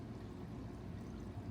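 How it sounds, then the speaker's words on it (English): A tabletop Chinese waterfall fountain trickles steadily, a faint, continuous splashing of falling water with no pauses or voices. "this being my first broadcast with the Chinese waterfall in the shot with me"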